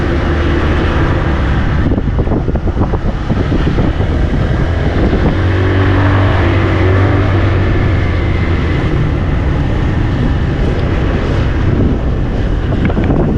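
Motorcycle riding along a road, with heavy wind buffeting the microphone and a steady engine drone underneath throughout, loud and continuous with no talk.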